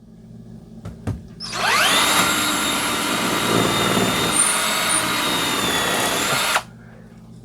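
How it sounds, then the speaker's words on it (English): A power drill boring a pilot hole overhead to mount a FLEXIMOUNTS 3x8 double-layer garage storage rack: a loud, steady whine that spins up, runs for about five seconds close by, then cuts off abruptly. "we can go up with this and drill our pilot hole"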